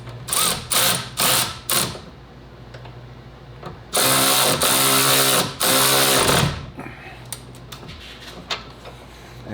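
A wrench ratchets to tighten the sway bar end link bolts on a Honda Ridgeline rear sway bar install. Several short bursts of clicking come first, then two long, loud runs of rapid ratcheting close up.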